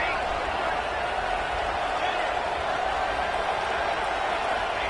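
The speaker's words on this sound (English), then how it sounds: "It's early, but this crowd is fired up. Listen to this noise here." Fired-up crowd at a football stadium roars in a dense, steady wash of cheering and yelling that holds at an even level for the full five seconds, with no single voice standing out.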